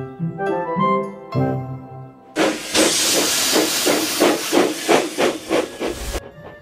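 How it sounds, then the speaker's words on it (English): A steam locomotive on an icy track lets out a loud hiss of steam followed by rhythmic chuffing puffs, with a few musical notes just before. "Henry puffed up Gordon's hill."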